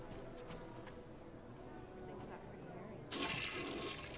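A toilet in a ladies' room stall flushes in the video game Deus Ex Mankind Divided, a sudden loud rushing of water that follows a stretch of quieter game ambience and continues to the end.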